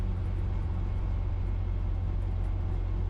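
A classic Mini 850, freshly tuned, drives along with a steady, even low engine drone and road rumble heard from inside the car, with no breaks or changes in pitch.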